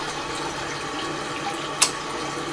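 Water runs steadily in a Japanese restroom toilet, giving a continuous hiss of flowing water with one brief sharp splash or click near the end and no talking.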